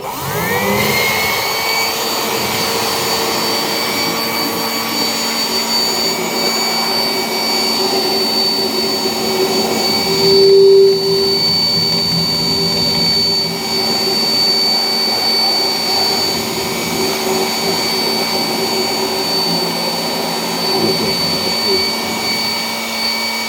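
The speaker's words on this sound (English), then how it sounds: "here I have a blower machine. You may be knowing it's called industrial blower" An industrial blower runs steadily throughout, a loud continuous whooshing drone with a constant high whine, holding a ball floating in its airstream.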